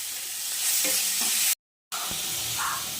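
Pumpkin flowers fry in a pan with tomato, giving a steady hiss and sizzle with light spatula taps, interrupted by a short silent gap midway.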